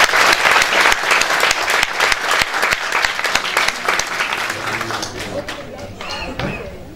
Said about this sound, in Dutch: nog één applaus voor mevrouw Gomez